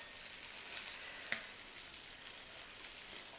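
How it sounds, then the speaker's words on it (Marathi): Stuffed green chillies for a Maharashtrian bharli mirchi sizzle steadily in a hot pan, a continuous soft frying hiss with one faint clink partway through. "ह्या मिरच्या सगळ्या व्यवस्थित अशा आपल्याला परतून घ्यायच्यात, भाजून घ्यायच्यात चांगल्या"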